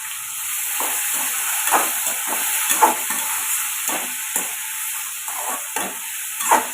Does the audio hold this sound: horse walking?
no